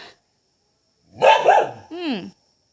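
A pair of quick dog barks rings out close by after a brief quiet, followed by a rising, whining voiced sound, then silence again.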